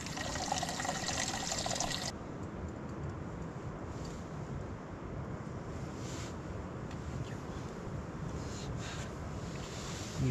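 Water runs through a Decathlon filter bottle outdoors on a hike in Ladakh, a steady close hiss and trickle of flowing liquid, brighter for the first two seconds, then a continuous softer wash.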